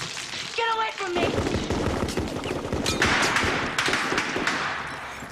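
A film action scene with rapid gunfire shooting a lock open: dense bursts of shots and thuds carry loud and close over continuous clatter, after a brief rising tone at the start.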